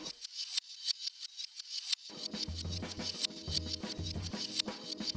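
Bright shaker-like percussion hits in a quick rhythm, then the percussion loop reversed, denser and smeared, with a low bass line swelling underneath.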